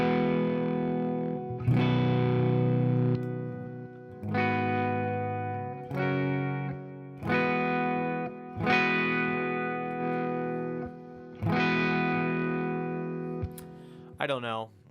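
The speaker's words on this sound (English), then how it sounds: "What we need to do is we need to find an amp that sounds really great with some of this mid-range distortion." Electric guitar played through an amp with mid-range distortion, about seven sustained chords struck one after another, each ringing out with reverb before the next, ending with a brief scratchy strum.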